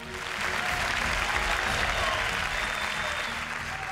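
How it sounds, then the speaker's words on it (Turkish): A television talent show audience gives contestant Mert loud, sustained applause, a dense roar of many hands that swells in and holds steady, with some shouts and cheers blended in. "Mert'e kuvvetli bir alkış alabilir miyiz?"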